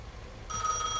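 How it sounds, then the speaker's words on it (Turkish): An in-game telephone rings in Gas Station Simulator, a bright electronic tone that starts abruptly partway through and repeats over faint background hum. "Telefon."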